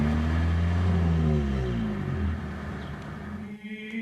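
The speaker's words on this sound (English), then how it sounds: "In a car, the valves open and close, and we get big bursts of sound coming out from the engine." A car engine revs hard and steadily up close, its pitch rising in a strong, continuous vroom before easing off near the end.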